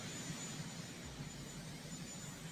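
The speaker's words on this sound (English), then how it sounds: "And now we're going to watch him take off in this big-ass helicopter." A large presidential helicopter takes off in the distance, giving a faint, steady rotor-and-engine roar that stays even throughout.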